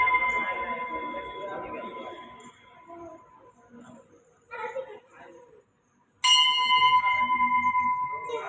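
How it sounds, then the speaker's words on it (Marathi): A temple bell at a goddess shrine rings loud and close, its bright metallic tone sustaining for several seconds and fading, then struck again sharply near the end, with faint voices in the background. "घंटी वाजवायचंय."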